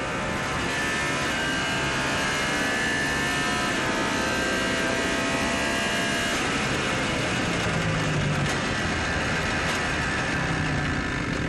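A race car at the 2025 Le Mans 24 Hours, Fred Vesti's car suffering a terminal engine failure, heard as a loud, continuous broadband roar that stays unbroken throughout, with no talking.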